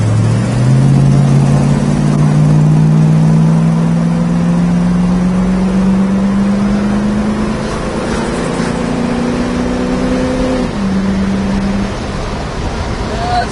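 A 1966 Ford Mustang K-code fastback Shelby GT350 tribute drives on the road, its engine droning steadily and rising in pitch as it accelerates through gears, close and loud, with a shift near the end.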